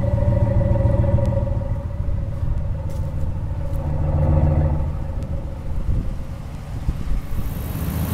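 Truck exhaust rumbles at idle right beside the tailpipe, a loud, deep, steady throb with a slight rise and fall in level.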